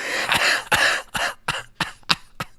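A run of about seven harsh allergy coughs, close to the mic, starting with longer heavy ones and tapering into shorter, sharper bursts.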